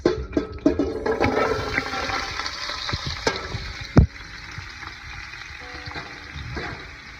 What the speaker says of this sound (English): in my big pot, and I'm gonna add in the carrots, onions, celery, and peppers